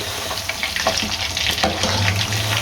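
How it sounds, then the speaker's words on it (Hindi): Chicken pieces frying in hot oil for Dhaka-style fried chicken, a loud bubbling crackle with wet spattering bursts and occasional stirring clatter, no one speaking. "तो ये देखें, ज़बरदस्त फ्राई हो रहा है चिकन हमारा"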